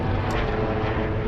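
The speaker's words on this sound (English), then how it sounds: "Hi, helicopter interrupting my shot." A helicopter flies low overhead, producing a loud, steady broadband engine roar with rotor rumble that fills the whole moment without a break.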